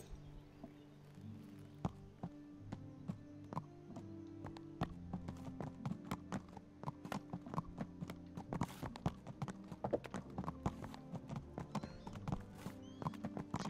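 Hooves clip-clop in a quick, steady rhythm, close and crisp, as a horse trots along in Kingdom Come: Deliverance, with a tonal drone beneath and no talk.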